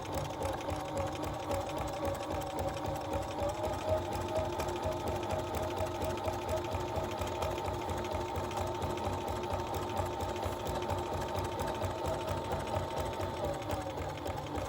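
A sewing machine stitches a basket diamond quilt block with a fast, even mechanical chatter of rapid needle strokes, loud and close, running steadily for the whole stretch without talk.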